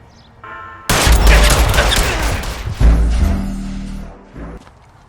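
A shootout in the video game L.A. Noire erupts in a heavy volley of gunfire, a loud sudden blast followed by sustained crackling shots, a second burst, then a tapering echo.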